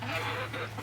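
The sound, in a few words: chickens clucking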